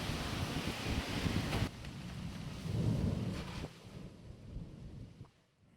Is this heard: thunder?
yes